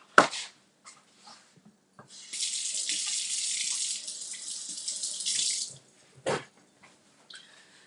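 Running tap water pours into a kitchen sink while hands are rinsed under it, a steady close hiss lasting a few seconds, framed by brief splashes and clunks before and after.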